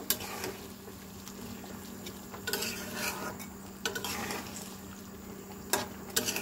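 Fried tengra fish stirred gently into a simmering curry, soft scraping and knocking of a spoon against the pot at irregular intervals over a low steady bubbling, close and fairly quiet.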